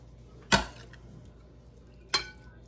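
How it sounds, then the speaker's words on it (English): A scoop of Jell-O lands on a layered ambrosia salad: two short, close utensil-and-dish clinks about a second and a half apart over a quiet background. "One little old scoop of our Jell-O."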